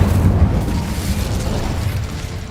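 Incendio fire spell in a Harry Potter video game, a loud, deep booming whoosh of flame that starts strong and rumbles on steadily, slowly easing over a couple of seconds.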